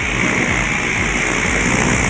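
A repaired 18-inch Union electric stand fan motor runs with a steady, loud whirring hum and airy rush, unchanging throughout, with no voices.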